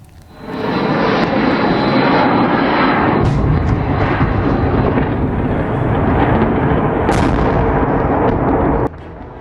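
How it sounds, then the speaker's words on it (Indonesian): A massive Russian drone and missile attack hits Kyiv in the early hours of Sunday. It sounds as a loud, continuous roaring rumble, with sharp blasts or whooshes bursting out about a third and three-quarters of the way through. No voices are heard. "Serangan rudal dan drone besar-besaran Rusia menghantam Kiev pada Minggu dini hari waktu setempat."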